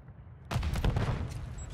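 Video game gunfire cuts in abruptly after a quiet half second, with a sharp volley of shots up close followed by a sustained clattering burst of fire.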